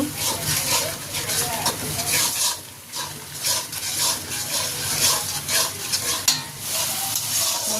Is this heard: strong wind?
no